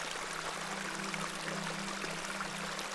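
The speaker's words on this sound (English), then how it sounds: "This is a lovely little beck." A small stream, a beck, flows in The Excavation of Hob's Barrow with a soft, steady burble of running water. It is quiet and constant, with no voices.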